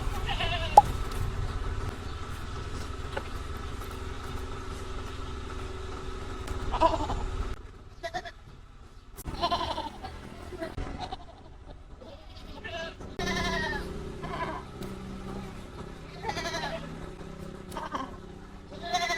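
Several goats bleat repeatedly, wavering cries at moderate distance over steady outdoor background noise, with a motor-like rumble fading out early on.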